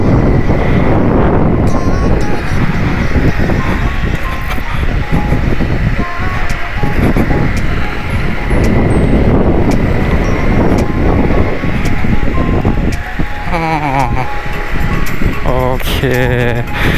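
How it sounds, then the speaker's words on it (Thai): Steady, loud wind buffeting the microphone while riding a Honda PCX160 eHEV ABS scooter, a continuous broadband roar that persists throughout with no pauses. "นี่ได้ยินเสียงลมบ้าง"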